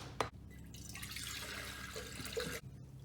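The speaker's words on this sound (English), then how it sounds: "we'll put our water inside our beaker" Water pours into a big beaker in one continuous, fairly quiet splashing stream lasting about two seconds, with a short knock before it starts and a thump as it ends.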